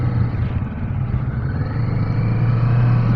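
A Kawasaki Vulcan S cruiser motorcycle engine revs up while riding, a loud, steady low rumble that climbs gradually in pitch and volume, with wind noise over it and no talking.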